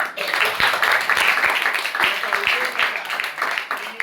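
Crowd applause welcoming students at a coaching class's Ganesh festival study circle, a steady dense clapping that runs the whole time with scattered sharp individual claps standing out.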